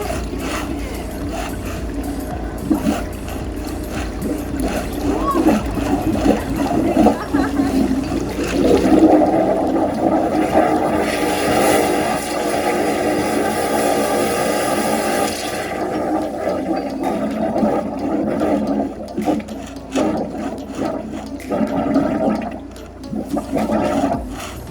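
Drain pipe clogged with forty years of grease being cleared by a high-pressure washer, a loud, continuous rushing and gurgling water roar that swells in the middle, with people talking briefly over it.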